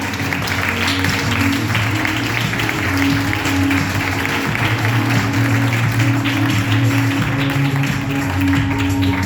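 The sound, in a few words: applause welcoming finalist to stage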